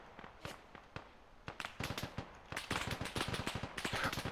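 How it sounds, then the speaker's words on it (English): Dense gunfire in the Arma 3 video game as troops shoot up bunkers on a hill: rapid cracking bursts and single shots, sparse at first, then building into loud, sustained volleys. "Oh, they're shooting the bunkers up the hill."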